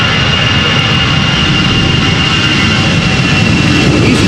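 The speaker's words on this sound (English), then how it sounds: "EasyJet A320." EasyJet Airbus A320 airliner at Amsterdam Schiphol, its jet engines giving a loud, steady roar with a faint high whine throughout, close by and without talk.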